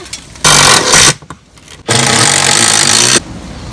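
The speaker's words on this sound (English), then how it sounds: "now we put the screw back in" A power screwdriver drives screws back into an awning motor mount in two close, loud bursts, one short and one longer, separated by a brief pause with small clicks.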